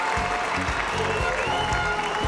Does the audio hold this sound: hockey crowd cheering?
yes